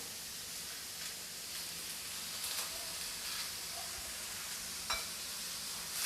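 Sambar onions fry in hot oil, with a faint steady hiss broken by a few soft crackles and one sharper pop near the end. The sound stays quiet throughout and no one speaks.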